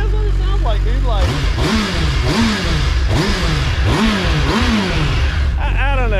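A stock-exhaust 2023 Suzuki Hayabusa engine on a dyno, revved repeatedly in about five rising and falling surges, loud and close with a steady drone beneath.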